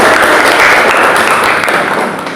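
Classroom applause for a student group, a dense steady wash of many hands clapping that fills the room at full loudness from start to finish.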